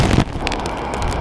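Gusts of wind from a winter storm with wet snow buffet the microphone in a city, a loud rumbling roar that swells and eases over a second or so.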